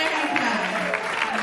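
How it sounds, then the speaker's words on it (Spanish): A church congregation breaks into applause for the Lord during a sermon, a brief dense burst of clapping from many hands at moderate loudness. "¿Cuánto le dan un aplauso al Señor?"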